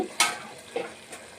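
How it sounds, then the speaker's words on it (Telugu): Mint paste sizzling in hot oil, two or three quick spitting crackles over a soft frying hiss, close by and brief. "పుదీనా పేస్ట్ని ఆయిల్లో మగ్గనివ్వాలి"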